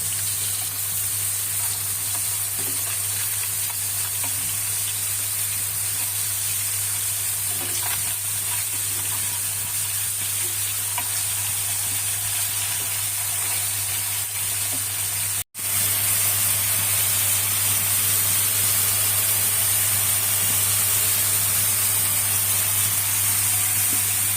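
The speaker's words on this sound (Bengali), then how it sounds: "আর পাশের চুলায় আমি কাতল মাছগুলো ভেজে নিচ্ছি।" Katla fish pieces frying in a pan give a steady, loud sizzle that runs unbroken for the whole stretch, with a brief dropout partway through, and no talking over it.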